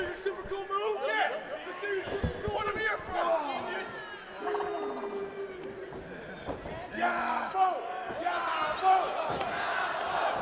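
A Juggalo Championship Wrestling crowd in Cleveland shouts and chants in loud, surging waves of massed voices, with yells and cheers rising and falling across the arena.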